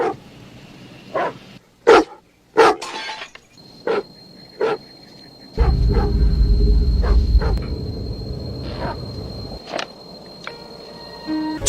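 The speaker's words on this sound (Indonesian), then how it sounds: "Rachel pun heran saat lagi-lagi si asu terus menggonggong tidak jelas" A dog barks repeatedly in short, sharp bursts with uneven gaps. Partway through, a heavy low rumble comes in and continues underneath for several seconds.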